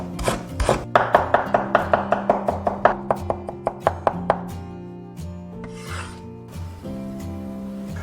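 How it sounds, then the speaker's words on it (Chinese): A knife mincing fresh ginger on a cutting board. A rapid, even run of crisp chopping taps speeds up and then stops, followed by a few scattered scrapes and knocks close by. "准备一颗生姜，切成姜末"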